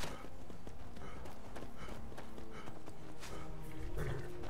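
A horse in the Skyrim video game, its hooves clip-clopping steadily at close range in a continuous run, with an occasional whinny and no voices.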